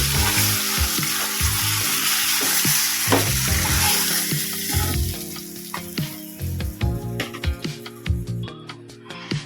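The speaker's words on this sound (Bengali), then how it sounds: "মাছের মাথাটা ভাজা হয়ে গেছে, দুটো ভালো করে ভাজা হয়ে গেছে।" Fish heads fry in hot oil with a loud, dense sizzle that thins into scattered crackles and spatters, along with clattering from stirring or turning in the pan.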